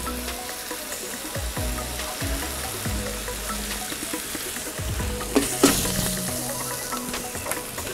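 A burger patty sizzles and fries on a Blackstone flat-top griddle, a steady close crackle with occasional scraping and clatter of a spatula, no talking.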